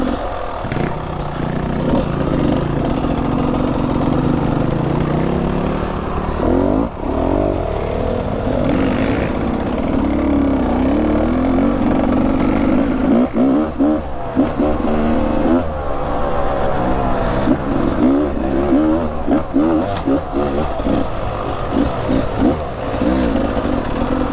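A 2018 Beta 300RR two-stroke dirt bike ridden on a trail, engine buzzing and revving continuously, rising and falling with throttle changes and gear shifts, close and loud throughout.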